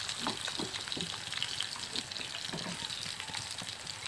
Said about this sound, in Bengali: মাছের সাথে দু তিন কোয়া রসুন আর বেশ কিছু শুকনা মরিচও ভেজে নিচ্ছি